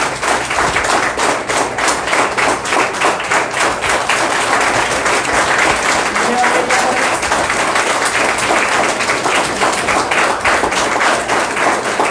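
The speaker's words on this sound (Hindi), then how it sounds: "जोरदार तालियों से स्वागत है।" An audience claps loudly and steadily to welcome students at an event celebrating exam selections, a dense, sustained roar of many hands with no pauses throughout.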